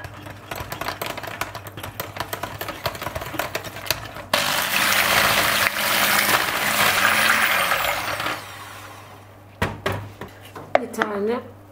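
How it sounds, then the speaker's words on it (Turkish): An electric mixer whirs loudly for several seconds as it whisks a runny batter, with a person talking before and after the motor runs. "Ben böyle daha hızlı ve pratik olması için mikserle çırpıyorum."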